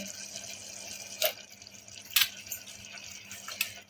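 Soaked lentils tipped into a pot for rasam rice, a few wet splashes and drips against a quiet background.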